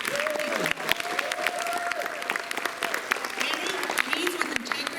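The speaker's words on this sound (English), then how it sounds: "A round of applause, please." Applause from an audience at a Tri-County Women Veterans recognition celebration, sustained clapping with sharp individual claps standing out and some voices under it.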